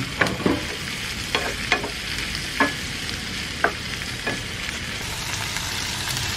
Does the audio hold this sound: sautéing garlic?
yes